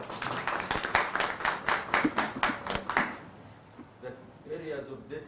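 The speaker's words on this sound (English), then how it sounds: "Let's appreciate the Director General with a hand clap." An audience claps in unison for about three seconds after an official is thanked at a Uganda–America investment event, a dense burst of hand claps that stops abruptly, followed by quieter room sounds.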